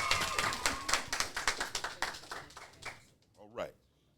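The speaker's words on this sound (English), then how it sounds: "Y'all want to give her a round of applause." A small town hall audience claps for a state senator, a brief close round of scattered hand claps that thins out after about three seconds, followed by a voice speaking.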